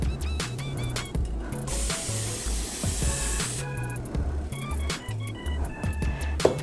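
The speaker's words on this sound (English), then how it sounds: "Non-stick pan, just a little bit of butter. I like using Pam just because it's convenient." Pam cooking spray hisses onto a non-stick pan in a home kitchen, a soft, steady spray sound that stays faint under a busy background of clinks and electronic chimes.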